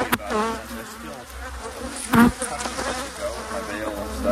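Bees swarm around a beekeeper and the camera at a large hive, their buzzing a dense, close drone that rises and falls as individual insects zip past the lens.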